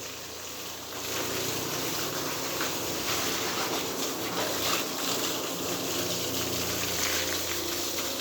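Water pours steadily over a cow's head during bathing on a dairy farm, a continuous splashing gush that begins after a quiet second and runs on at moderate level, with no speech.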